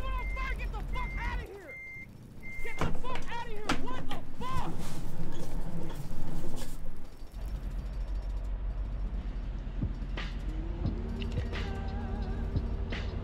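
Truck reversing beeps in a truck-driving video game, a steady series of repeated electronic beeps over engine rumble and mechanical clunks, with someone talking over much of it.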